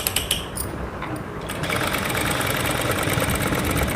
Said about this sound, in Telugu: ఇప్పుడు ఇలా మనం కుట్టేసుకుంటూ రావాలి